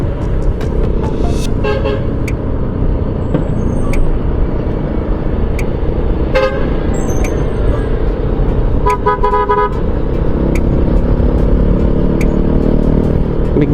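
Short car horn toots sound a few times over a heavy, constant engine and road rumble from inside a moving vehicle.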